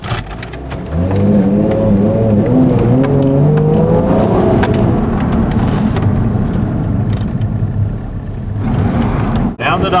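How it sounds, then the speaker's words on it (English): 2007 Hyundai Entourage minivan with a running fault, accelerating harder, the engine revving close and loud with rising pitch before settling into a steady drone. "Now we're going to accelerate a little harder."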